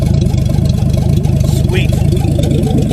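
A 1951 Hudson Hornet engine runs steadily close by, a loud pulsing mid-pitched rumble with an even firing rhythm throughout.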